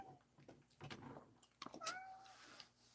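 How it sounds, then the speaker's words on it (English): A house cat meows several times indoors, close and fairly quiet, short rising calls with a faint door-like knock among them. "Yeah, Kitty, you want to go out?"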